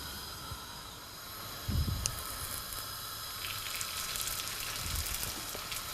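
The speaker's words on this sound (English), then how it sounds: "I'll wait until it's hot, then I'll start frying the rolls that we prepared." Meat rolls fry in hot oil in a pan, a steady sizzling hiss throughout with a brief clatter partway through as food meets the pan.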